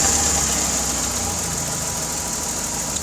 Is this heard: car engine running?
yes